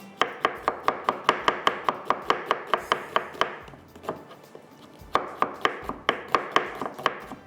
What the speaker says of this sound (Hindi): बस ये प्याज को चॉप करते हैं